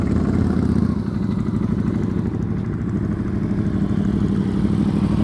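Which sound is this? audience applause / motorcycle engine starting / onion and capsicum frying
motorcycle engine starting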